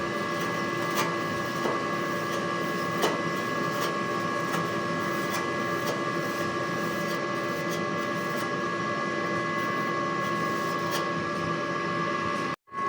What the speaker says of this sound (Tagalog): Head clean po natin. At antayin itong matapos.